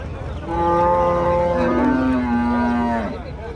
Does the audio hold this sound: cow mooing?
yes